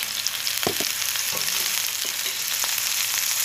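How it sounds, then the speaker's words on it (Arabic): Kofta meat fries in oil with a steady, close sizzle. A few soft clinks and stirring sounds rise over it, and nobody speaks. "راح ندير هاد الكفته تتقلى ونعاود نولي"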